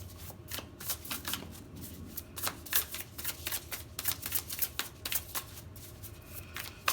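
Lucid Dreams Beginner's Tarot cards being shuffled close up, quick riffling bursts and soft slaps repeating irregularly, quiet and without speech.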